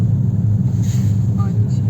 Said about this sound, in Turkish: Gaz veriyor. Debriyajı bırakıyor.